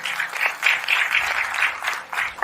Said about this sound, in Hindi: तो दोस्तों एक जोरदार तालियां